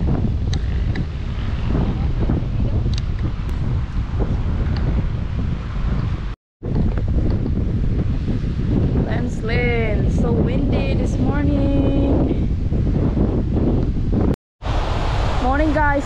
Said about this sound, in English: so windy and cold this morning